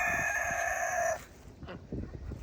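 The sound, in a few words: chickens clucking and crowing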